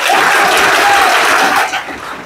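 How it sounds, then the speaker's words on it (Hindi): A classroom group breaks into loud, dense applause for a girl who answered well, steady and close for nearly two seconds before fading. "शाबाश, तालियां बजाकर।"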